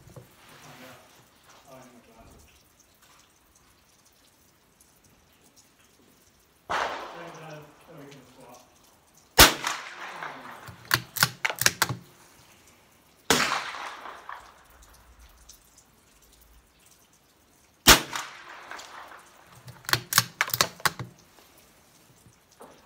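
A Savage MK2 TR rifle fires several sharp, fairly quiet cracks in small clusters. Clicks from the action follow between shots, and a person talks quietly in the gaps.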